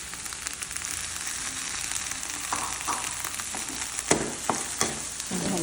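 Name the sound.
mushrooms, garlic and onion frying in butter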